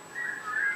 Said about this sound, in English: Let's whistle a tune to keep our spirits up.